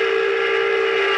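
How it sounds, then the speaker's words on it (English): The whistle of a 2000–2001 Pennsylvania Railroad Q2 model train locomotive gives one loud, steady, sustained blast, close and alone. "Great whistle."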